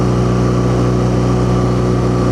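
BMW R nineT Scrambler motorcycle with a boxer engine running, a steady close engine drone with a low-pitched hum held evenly throughout, no talk over it.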